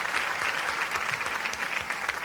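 Loud, dense audience applause at a Hindi comedy show, steady clapping filling the whole stretch with no pause or voice over it.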